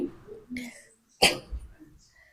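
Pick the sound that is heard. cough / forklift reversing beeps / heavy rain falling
cough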